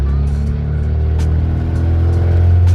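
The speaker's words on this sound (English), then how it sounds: "it's definitely super annoying how loud this truck is because the exhaust comes out right underneath the cab" A 1991 GMC Sonoma pickup idling loudly, with the exhaust exiting right beneath the cab, a deep steady rumble and low droning exhaust note close to the microphone.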